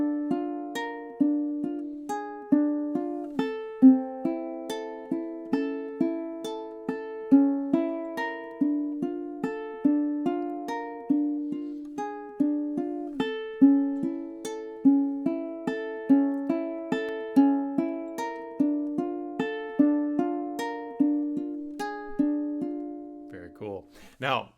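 Ukulele played fingerstyle, picking Moonlight Sonata bars 13 to 17 in steady, evenly plucked arpeggiated notes with ringing overlaps, close and clear, with no talking.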